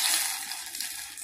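Tamarind rasam poured into a cooking pot makes a brief, close liquid splash and gush that tapers off within about a second.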